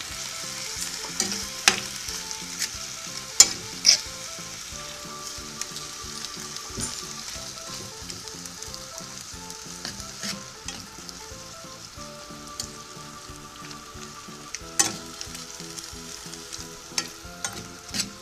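Sausage, courgette (zucchini) and summer squash frying in a pan, a steady close sizzle with crackling pops and occasional stirring clicks, no talk.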